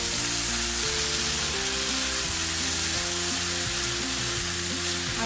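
Chicken, julienned carrots and mushrooms fry over a high flame, giving a steady, dense sizzle that runs throughout beneath stepping background music.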